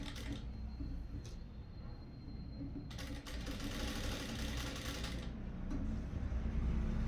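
A sewing machine stitches a collar with a continuous low mechanical whir, fairly quiet, with a few faint clicks and brief rustles and no talk.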